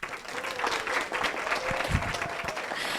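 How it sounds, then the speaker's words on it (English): Audience applause for a panel at a women's solutions session in Kenya, a steady clatter of claps throughout, moderately loud with faint crowd murmur beneath. "Are you hearing those claps, right?"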